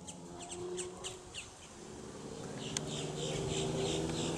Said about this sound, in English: We have lots of birds around.